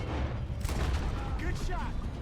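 Gunfire in the video game Red Dead Redemption 2, with two or three sharp broadband cracks over a steady low rumble of ambient noise and faint voices in the background.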